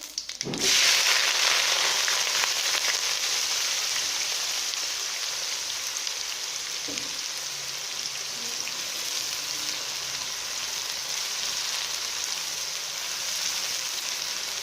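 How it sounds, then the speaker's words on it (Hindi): Sliced onions fry in hot oil with cumin seeds in a pan, giving a steady, loud, rain-like sizzle that starts with a sudden burst and keeps hissing evenly with no talking. "प्याज़ों को गोल्डन ब्राउन होने तक फ्राई करेंगे"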